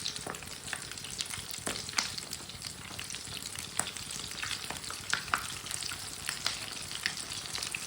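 Potato tikki cook in a pan over a low flame with a soft, continuous sizzle and frequent sharp little crackles and spits, close by and quiet, with no talking.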